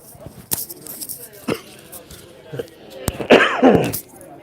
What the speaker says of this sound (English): hold on, I'm gonna cough